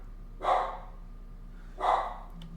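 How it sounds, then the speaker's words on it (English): A dog barks twice outdoors, two single woofs spaced about a second and a half apart, moderately close over a quiet background hum. "My bad, my dog's over there. He's trying to eat a squirrel."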